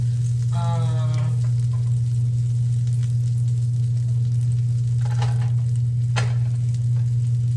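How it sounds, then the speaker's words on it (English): Butter melting in a pan for homemade shrimp scampi gives a steady, close sizzle over a constant low electrical hum, with a few brief scrapes and clatters. "that makes it like officially 2 tablespoons of butter now. So I'm gonna go ahead and let that melt."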